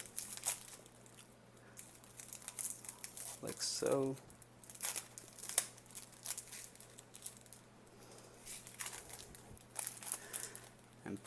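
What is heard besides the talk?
unwrapping cellophane wrap from a keyboard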